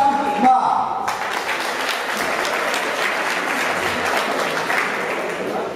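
Audience applause at a youth boxing event for a boxing club's 90th anniversary, a steady burst of clapping that follows a brief voice at the start and holds evenly to the end.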